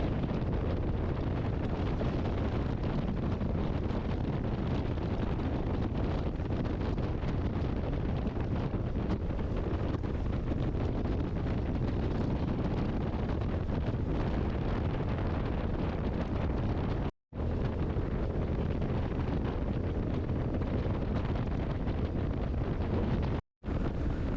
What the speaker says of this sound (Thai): ลมแรงแล้วด้วย